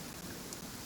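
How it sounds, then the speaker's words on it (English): A steady rain downpour in the video game Genshin Impact, a soft, even wash of falling water that stays constant and fairly faint throughout, with no voices. "Quite a downpour."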